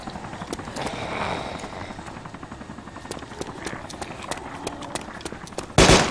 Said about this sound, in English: Two helicopters.